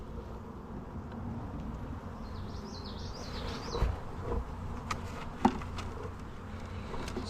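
Honeybees buzzing around an open hive: a steady, close hum of many wings droning throughout, with a few faint clicks and knocks of handling the frames, no talking.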